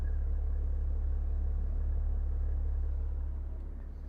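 Maserati Levante 3.0 V6 Bi-Turbo 350 Q4 GranSport SUV in normal mode, idling with a steady, deep low rumble that holds constant and eases slightly at the end, heard alone without talk.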